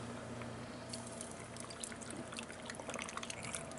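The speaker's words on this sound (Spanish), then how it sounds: "Le pongo su agüita también." Water poured from a container into a small kitchen blender while making taco salsa, a soft steady trickling pour with faint splashes, heard alone and fairly quiet.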